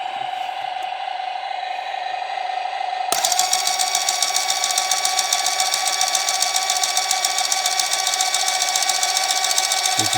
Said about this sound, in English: the noise of that fan, of that pump, it's ridiculous